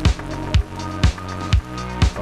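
A custom synth pad programmed on a Synthstrom Deluge, heavily sidechained so it pumps in a regular pulse about twice a second, swelling and ducking under sharp low thumps with no voices.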